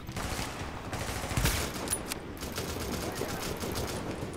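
A deployed turret in Tom Clancy's The Division fires a fast, continuous rattle of shots at moderate distance, with bursts of louder impacts mixed into the clatter.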